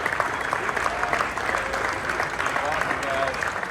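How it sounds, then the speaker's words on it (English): Hundreds of airport passengers at Reagan National Airport applaud and cheer Iowa veterans arriving on an Honor Flight, a dense, continuous clapping with crowd noise and scattered voices throughout. "hundreds of waiting passengers cheer loudly for the Iowa veterans as they arrive in Arlington, Virginia, near Washington, D.C."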